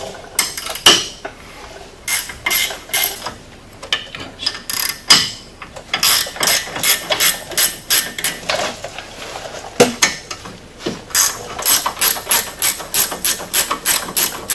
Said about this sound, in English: I'm going to go ahead and pull the brake caliper off.